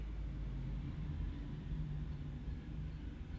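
A car passes outside in a residential neighborhood, a faint, steady low rumble with a soft hum above it that holds evenly throughout without any sharp change.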